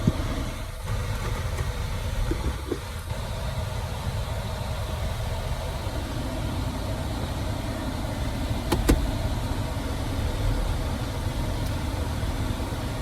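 A 2016 Jeep Wrangler JK idles inside a tight garage, a steady low engine drone running the whole time with a few faint clicks and brief mechanical ticks, no talking.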